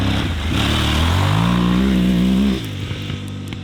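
An Aprilia Tuareg 660 motorcycle engine revs up loudly, then the throttle closes into a low, popping exhaust burble.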